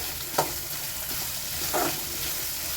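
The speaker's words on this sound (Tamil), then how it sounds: "உப்பு சேர்த்து நல்லா கிளறி விடலாம்." Onions salted and frying in oil give off a steady close sizzle, with a couple of soft scraping strokes as they are stirred, no voices present.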